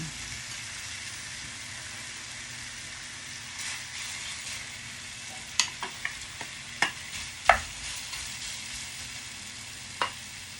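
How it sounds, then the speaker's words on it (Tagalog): Steady soft sizzle of hotdogs frying in a pan, with a few sharp pops and crackles scattered through the second half. "Prituhin po muna natin yung hotdog."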